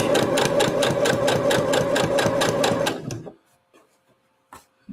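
A sewing machine stitching fabric for a hat runs in a loud, steady rapid rhythm for about three seconds, then stops, leaving a few faint handling clicks.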